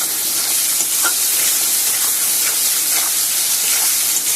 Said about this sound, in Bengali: আলুর সাথে ভালো করে মিশিয়ে নেব।